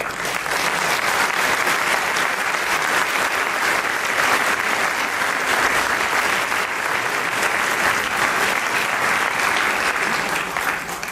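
Audience at a French book talk applauding continuously, a dense, even wash of many hands clapping that holds steady for about eleven seconds with no talk over it.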